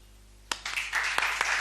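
Hindi poetry open mic crowd in Lucknow breaking into applause after a half-second of quiet, with a sharp first clap then a building, fairly loud wash of clapping with distinct individual strikes.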